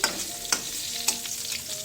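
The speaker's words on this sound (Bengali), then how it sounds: "পটল ভাজা ভাজছি" Pointed gourd (potol) slices frying in a pan, a soft steady sizzle with a couple of sharper clinks of stirring, fairly close and quiet.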